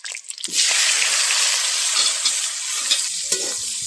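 Bitter gourd being stirred in a hot frying pan, giving a loud, steady, close sizzle with small scraping stirs throughout.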